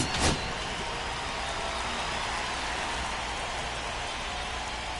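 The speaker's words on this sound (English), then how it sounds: "This rain is not letting up." Steady rain pours down during a baseball game in Cincinnati, a dense continuous hiss that holds evenly throughout with no talk.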